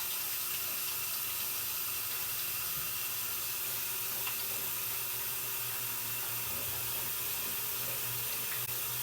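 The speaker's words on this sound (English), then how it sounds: "Wash the hands after touching the bacon." Tap water runs steadily into a sink as hands are washed after handling bacon in a home kitchen, an even, moderately close rushing hiss with no talking.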